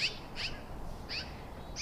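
A bird calls from a tree in a series of four short, high chirps in a loose rhythm over a low outdoor hum, clear but moderately distant.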